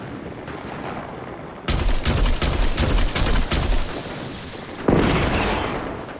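The Prospector grenade launcher in Destiny 2 fires a rapid string of grenades, then detonates them all at once in a loud, rumbling blast that slowly fades.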